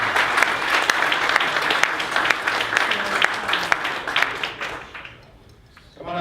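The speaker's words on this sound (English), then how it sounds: "please give a round of applause for a very speaker" An audience applauds a speaker at a business seminar on opportunity zones with a brisk, lively patter of clapping that thins out and nearly stops near the end before a sound returns.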